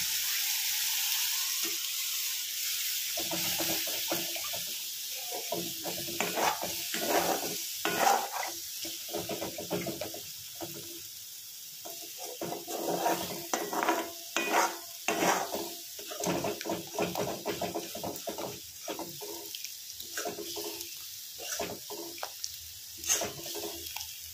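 Pabda fish curry simmers and sizzles steadily in a pan as spiced water is poured in, with a continuous hiss of frying broken by stirring scrapes and splashy bursts.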